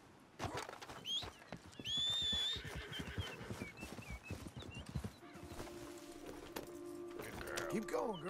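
A horse in the Western game Red Dead Redemption 2 lets out a clear whinny amid clopping hooves and rustling tack, followed by music and ambient game sounds.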